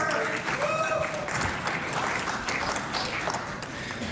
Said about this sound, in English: That's the biggest clap I've had since I sat here